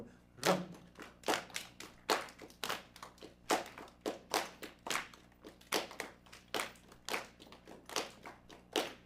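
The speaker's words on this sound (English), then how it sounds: "Can we actually all clap that together?" A group claps an 8/8 klezmer rhythm together, a repeating pattern of crisp hand claps at a steady tempo, fairly soft in a room with no voices.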